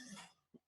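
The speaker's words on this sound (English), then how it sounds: "My apologies for the cough." A single short cough from a man on an amateur radio emergency net, faint and close, following a brief breathy exhale.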